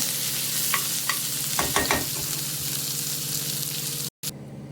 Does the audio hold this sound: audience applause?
no